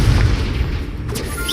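A Confringo fire spell explodes in the Hogwarts Legacy video game, a loud, heavy boom that rumbles at first and then fades out over about a second.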